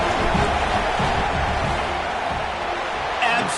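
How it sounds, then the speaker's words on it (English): A football stadium crowd roars steadily during a field goal attempt, a dense, loud wash of massed voices that holds unbroken throughout, with no individual words standing out. "This crowd trying to do its part to get inside the kicker's head."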